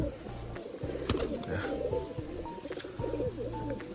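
Pigeons, including a black and white one, cooing in repeated low throaty bursts at close range, with faint chirps and light background noise between the calls.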